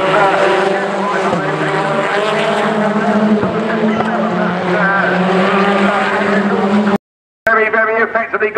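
British Touring Car Championship cars racing at Thruxton in 2013, engines roaring loud and close with shifting whines and buzzing revs, a commentator talking over them and a brief silent dropout near the end before the engines return.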